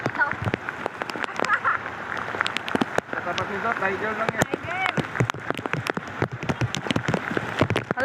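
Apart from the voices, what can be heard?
heavy rain falling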